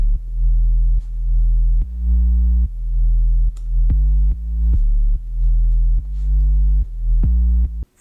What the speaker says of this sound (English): First, maybe let's start with the subs, because I'm really proud of them.